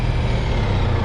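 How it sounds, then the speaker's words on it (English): Stop-and-go road traffic heard from the saddle of a moving Honda ST1300 motorcycle: a loud, steady low engine and road rumble with a broad wash of noise, brief and continuous, with no voices. "in this stop-and-go traffic, this bike is extremely capable"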